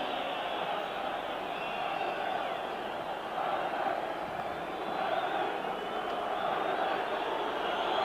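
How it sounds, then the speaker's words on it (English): A large Bulgarian football crowd in a stadium during a match against Ireland, with a steady, distant roar of voices and chanting that continues throughout. "The Bulgarian crowd trying to encourage the team to get forward"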